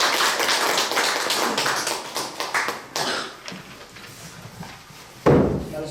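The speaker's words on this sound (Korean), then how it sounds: "큰 박수 부탁드리겠습니다" Lecture hall audience applauding a professor after a talk, a dense patter of many hands clapping at close range that thins out and fades, followed by a single sharp knock near the end.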